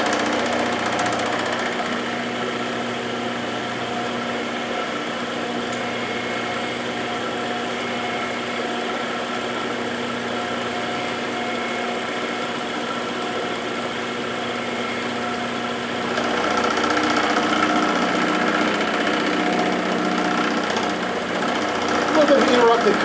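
A Hamilton 6-inch lathe taking a fast cut on a half nut, an interrupted cut across a thread, running as a steady mechanical drone that grows slightly louder and rougher toward the end.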